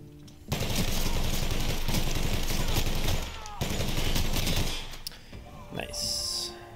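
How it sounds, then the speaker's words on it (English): A light machine gun fires in The Outer Worlds as a dense, loud sustained burst of rapid automatic shots, with a brief pause and a second long burst after it, then a short trailing clatter. "Let's use the old light machine gun."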